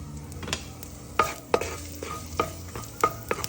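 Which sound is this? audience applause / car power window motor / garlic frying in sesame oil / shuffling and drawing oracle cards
garlic frying in sesame oil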